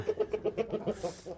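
Young aseel rooster chick, a heavy game-fowl breed, clucking close by in a steady series of about ten short rhythmic calls, fading slightly toward the end, with no talk over it.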